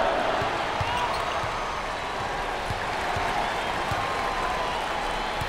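A packed arena crowd at an NCAA college basketball game, Southern at Arizona, applauds and cheers in a steady, dense roar that holds for the whole stretch, with faint ball bounces and possible commentary beneath.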